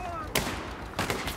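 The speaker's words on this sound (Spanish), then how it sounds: "los disparos vienen de noreste" Gunfire in an online shooter game rings out as two sharp, fairly loud shots about half a second apart, set against a constant hum of game background noise.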